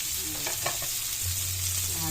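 A vegetable mixture with bell pepper, green chili and tofu for lumpia togue is stirred in a hot pan, a steady close sizzle with a few quick scraping strokes of the spatula and a low hum beneath.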